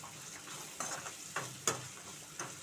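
Okra sizzles softly in a pan over a low flame while a spoon stirs it, with intermittent scraping clicks and taps breaking through a quiet, steady frying hiss.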